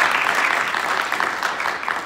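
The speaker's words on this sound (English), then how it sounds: "So I think that deserves an applause, just for the attempt to do it." Audience applause at a diplomacy and leadership summit, a steady wash of many hands clapping, loud and sustained throughout, with no speech over it.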